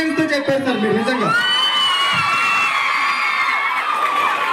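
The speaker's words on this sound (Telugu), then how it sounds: "థియేటర్ స్టెప్ వస్తున్నాయి లోన, అలా అరుస్తున్నారు." College students on a campus cheer and shout loudly as a crowd, with high whoops and screams merging into a sustained roar, close and dense, and a brief bit of speech at the start.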